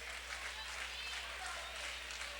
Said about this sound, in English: the Thornton Academy crowd gives Chris Rowe a nice round of applause